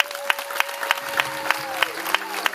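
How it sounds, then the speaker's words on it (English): Audience applause at a 2012 congressional candidates' political rally in Bagdad, a steady patter of many hands clapping with regular sharper claps and a faint background voice. "There's your applause, gentlemen."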